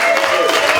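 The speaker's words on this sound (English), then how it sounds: "Let's give a big round of applause for the maid of honor" Wedding guests applaud in a brief, dense burst of clapping, steady and fairly loud throughout.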